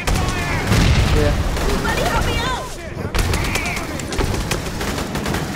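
Dense gunfire in the Aliens: Colonial Marines video game, rapid shots and booms over chaotic battle noise with a brief lull near the middle, while a person talks over it.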